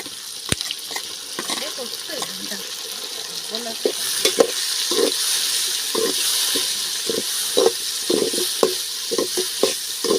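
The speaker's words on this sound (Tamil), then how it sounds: "வெங்காயம் தக்காளி எல்லாமே நல்லா வதங்கிருச்சு" Onions and tomatoes sauté in oil for a mutton curry, a soft steady sizzle under repeated spatula scrapes and knocks against the pan, close up, with a faint voice briefly in the background.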